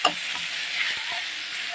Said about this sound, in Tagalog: nagisa na yung ating kamatis